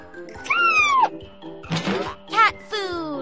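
A cartoon kitten in a children's puzzle video game meows several times in bright, rising and falling calls, mixed with soft thunks and short bursts of game sound.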